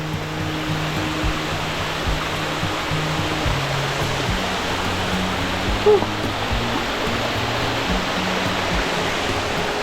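Close-up waterfall gives a dense, constant roar of rushing water, loud and unbroken throughout with no voices.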